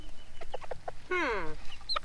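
Chickens cluck in short bursts, with one longer, rising squawk partway through and another call near the end, close and fairly loud against a quiet background.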